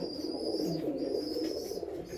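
Closed-tail male pigeons kept as pets give off a low, steady cooing drone at close range, with thin high chirps faintly overhead.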